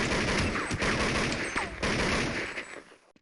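Counter-Strike 1.6 deathmatch gunfire, dense rapid bursts of automatic rifle shots and sharp cracks overlapping continuously, loud and close, fading out at the end.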